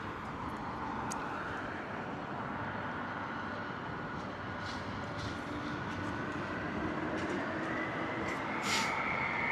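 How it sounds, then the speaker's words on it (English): A United Airlines Boeing 767 jet runs its engines on the ground at Heathrow Airport, a steady, broad, moderately distant roar that holds throughout, with no talk. "Quite an old classic plane, so lots of noise coming from that guy."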